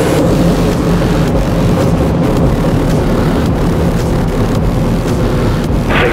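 Space shuttle launch just after liftoff as it clears the tower, a loud, continuous broadband engine roar with a heavy low rumble that stays steady and near-constant for the whole stretch, with no voices.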